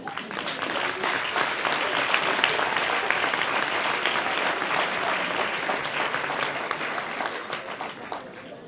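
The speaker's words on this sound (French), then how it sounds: "On peut déjà les applaudir." An audience in a lecture hall applauds at a local university thesis-presentation final, with dense, sustained clapping throughout that fades slightly toward the end.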